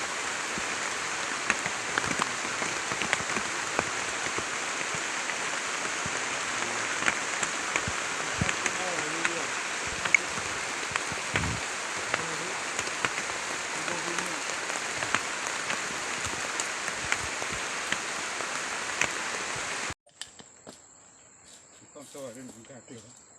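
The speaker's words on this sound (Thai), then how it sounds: "ตอนนี้ฝนตกแล้วนะครับ" Steady afternoon rain in a forest hisses across a broad wash for about twenty seconds, densely textured with scattered louder drops, then cuts to a quieter stretch with soft rustling.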